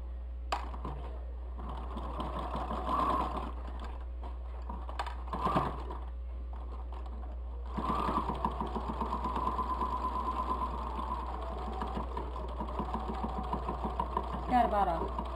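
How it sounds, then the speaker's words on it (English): A sewing machine stitches around the outside edge of a fabric bowl cosy, running in steady bursts with a constant low hum beneath and a short pause partway through, close and moderately loud. "we're going to sew around the whole outside of the bowl is what we're going to do"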